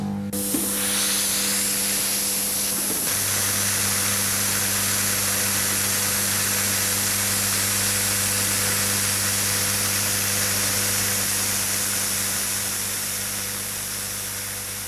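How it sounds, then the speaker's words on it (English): Plasma-style arc cutting set slicing through car body metal, a loud steady hiss of compressed air blowing molten metal away with a constant electrical hum beneath, running continuously and close. "The arc melts the metal and the compressed air blows it away."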